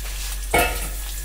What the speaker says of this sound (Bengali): এবার এতে দিয়ে দেব পেঁয়াজ কুচো।